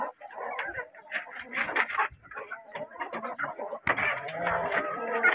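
Rhode Island Red chickens packed into a crowded pen cluck and squawk close by in irregular bursts, mixed with other hens, while a person talks intermittently over them.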